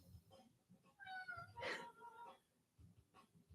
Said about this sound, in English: Yeah, you talky cat. Tell me. Tell me louder.